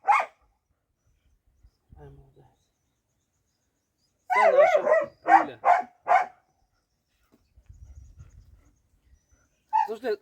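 West Siberian Laika hunting dogs bark in a few sharp, close bursts separated by silence, one cluster of rapid barks in the middle and single yelps at the start and end, with faint low murmuring.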